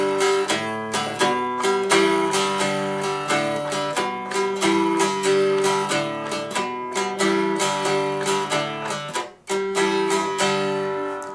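Dulcimer picks out a walking bass line, one bar at a steady moderate pace, with plucked notes ringing over a drone and occasional strums, close and fairly loud with no voices.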